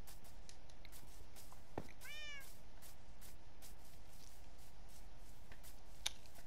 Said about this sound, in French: Regarde Iris, un chat